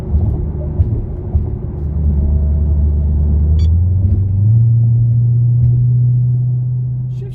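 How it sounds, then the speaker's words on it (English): A Dodge Hellcat drives in eco mode, its engine and exhaust making a deep, steady rumble heard from inside the car, with the pitch climbing and leveling as it shifts gears, loud and without talking. "Exhaust is quieter on auto, and the shift's a little bit laggy"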